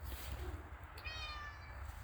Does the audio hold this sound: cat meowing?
yes